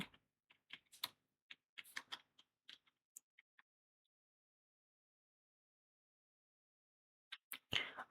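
Keys tapped on a computer keyboard while entering a search query, a quiet scattered run of clicks over about three seconds, then silence before a brief louder burst near the end.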